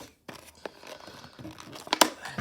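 Plastic toy car packaging crinkles and tears in short irregular bursts, with a sharp rip near the end, close up and fairly quiet.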